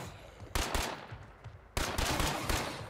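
Rapid automatic gunfire in the video game UPDATE 33 on Lethal Mode, two loud bursts of sustained shots, the second starting after a short lull, with no talk over them.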